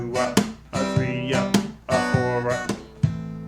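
A guitar strums the rhythm on the correct chords, giving sharp, bright strokes in a syncopated pattern with ringing sustained chords between them, played close and alone.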